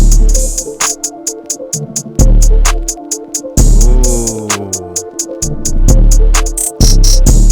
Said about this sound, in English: So let's play with the drums.